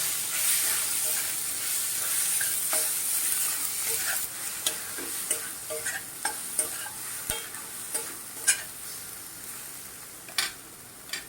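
A spoon stirs spices, coriander leaves, ginger, garlic and salt sizzling in a pan for paneer bhurji, with a continuous frying hiss under a run of taps and scrapes that grow more distinct in the second half.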